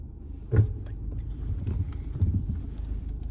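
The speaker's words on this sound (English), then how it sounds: "sorry about the sound, I'm literally just driving" Steady low road rumble from a car in motion, picked up on a phone microphone, with a brief louder bump near the start and another around two seconds in; no one speaks.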